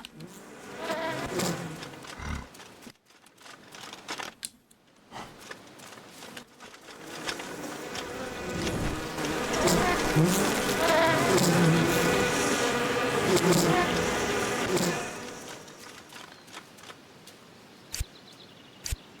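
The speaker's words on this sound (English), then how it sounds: "Yeah. Bees." Insect-like buzzing of bees in the video game Ghost of a Tale, a dense steady drone that swells through the middle and fades, mixed with scattered game sounds.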